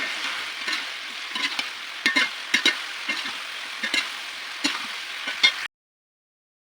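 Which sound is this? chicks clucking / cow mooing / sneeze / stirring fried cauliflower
stirring fried cauliflower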